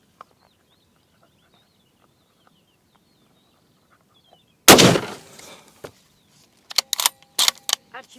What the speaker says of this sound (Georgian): მოკლედ, ახლა მოხდება გასროლა უკვე საყრდენიდან.